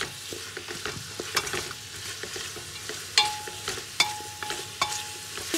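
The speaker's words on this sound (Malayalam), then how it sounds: "ഇനി നന്നായിട്ട് നമുക്കൊന്ന് സോർട്ട് ചെയ്യാം." Lengthwise-sliced onions with salt sauté in a pan for chicken mandhi, giving a steady close sizzle broken by sharp scraping stirs and clinks of the spoon against the pan, with no voices.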